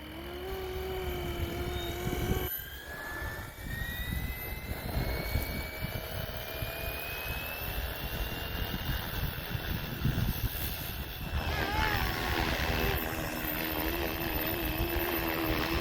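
A Flywing Bell 206 RC helicopter's rotor whirs steadily at close range, its rising whine sweeping upward over a broad mechanical hum that holds loud and continuous throughout.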